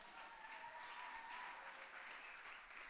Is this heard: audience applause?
yes